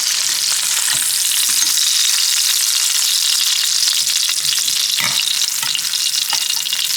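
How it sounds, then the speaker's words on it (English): Sausage sears in a hot pan with a loud, continuous sizzle and crackle, plus a few soft scrapes and knocks from a utensil. "it's a nice sear on my sausage"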